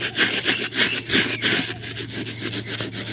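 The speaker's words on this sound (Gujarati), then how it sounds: "આ થોડાક બુટ કલરવાળા થયા છે, એ થોડાક સાફ કરી નાખવી." Dirty, paint-stained boots are scrubbed clean with water in rhythmic back-and-forth strokes, a loud close rasping rub repeating roughly every half second over a low steady hum.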